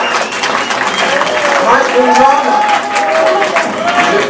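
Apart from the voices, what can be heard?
audience applause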